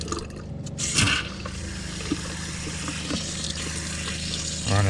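Water running through a Class B campervan's plumbing lines into the bathroom sink, a steady close trickle and splash with a surge at the start and again at the end.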